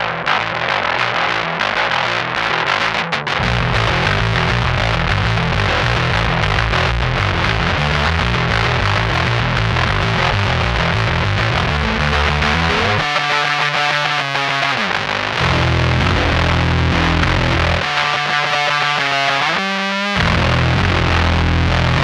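An instrument played through a Source Audio Aftershock distortion pedal with Ableton Live automation, giving a loud, continuous, heavily distorted tone whose effect shifts and swells twice near the end.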